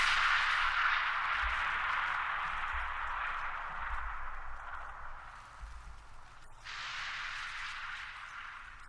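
A droning white noise effect in the intro of a pluggnb-style beat, a soft hiss that slowly fades, then cuts back in sharply near the end, with faint low thumps underneath.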